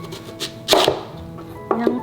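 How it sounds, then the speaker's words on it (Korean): Knife chopping garlic chives on a cutting board, a few quick close taps bunched together, then a short pause and another pair of sharp chops, with no talk. "이 부추도 잘게 썰어 주세요"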